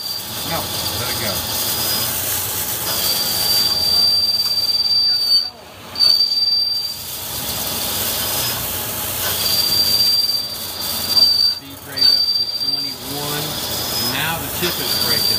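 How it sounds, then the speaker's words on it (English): A metal-turning lathe running a dynamic roughing cut gives off a thin, high-pitched squeal that comes and goes over a constant machine rumble, with short breaks where chips snap. People talk in the background. "And now we don't get as much squeal."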